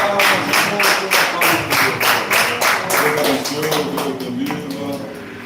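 A church congregation claps together during a worship service, a steady rhythmic round of many hands at close range, with voices faintly present underneath.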